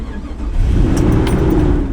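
An RV engine starting up, cranking briefly then catching into a loud, steady idle rumble that holds to the end, close and heavy.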